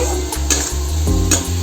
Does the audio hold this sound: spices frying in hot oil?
yes